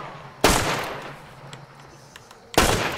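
Two loud, sharp gunshots in the first-person shooter Hunt: Showdown, about two seconds apart, each with a broad blast and a decaying tail, over a low background with faint game sounds in between.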